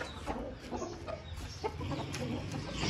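A Kandhari rooster gives soft, scattered clucks, faint and close, over a low background hum.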